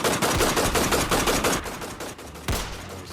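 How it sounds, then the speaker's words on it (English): A gunfire sound effect during a Mutant Year Zero tabletop game session: rapid bursts rattle in a fast, loud volley, trailing off, then a final sharp shot rings out near the end. "they all erupt in like gunfire"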